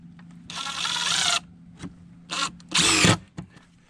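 A power drill drives screws into wooden fence boards in two loud whirring bursts of about a second each, with short gaps and lighter clicks between them.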